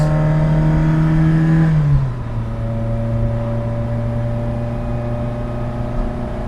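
A 1979 Fiat 127 Sport engine revs hard under acceleration, a loud, buzzy, fizzy drone that drops in pitch at a gear change and then climbs steadily again, heard from inside the small car with no talking.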